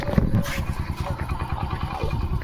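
A motorcycle rides along with a steady, rhythmic engine putter throughout, close and moderately loud, with occasional clatter over the running engine.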